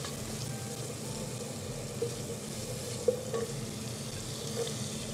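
Onion, carrot and meat stir-frying in a pan, a steady low sizzle with a few soft clinks of a utensil against the pan, close and fairly quiet throughout.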